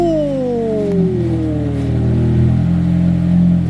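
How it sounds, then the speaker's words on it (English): A Toyota Camry's engine revs up close as the car pulls away on a short test lap, its pitch sliding downward through a gear change and then settling into a steady drone. "Right now, he's gonna take a little lap, and we'll see if it runs or not."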